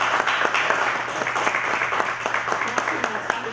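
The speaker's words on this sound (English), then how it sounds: "let's give these brothers a round of applause." A crowd claps in dense, steady applause, with voices faintly mixed in beneath the clapping.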